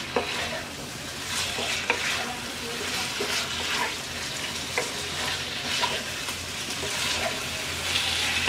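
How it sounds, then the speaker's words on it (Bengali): Tomato slices and turnip are stir-fried in leftover spices after the snakehead fish has been removed, producing a steady, close hiss and crackle with soft, irregular stirring knocks throughout and no one speaking. "শালগমটা কষিয়ে নেওয়া হয়ে গেছে"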